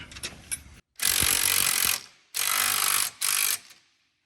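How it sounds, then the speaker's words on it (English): Ratchet wrench tightening a bracket bolt on a Warn UTV winch bumper: a few quiet clicks first, then three loud bursts of rapid ratcheting with short pauses between, close up and with no talk. "We'll go ahead and tighten that one up."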